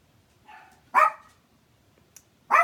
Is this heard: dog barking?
yes